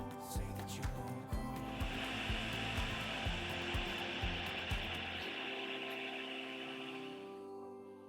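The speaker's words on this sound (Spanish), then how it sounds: "Introducimos todos los ingredientes en el procesador de alimentos, excepto las galletas, y batimos bien hasta que nos quede una consistencia de helado." A food processor whirs steadily as it blends banana ice cream mixture, its motor loud and continuous before winding down and fading near the end.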